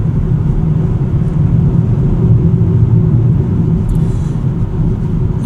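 A single-motor rear-wheel-drive 2026 Tesla Model 3 Standard gives a steady, loud low rumble of road and cabin noise as it accelerates, with no engine note and no talk.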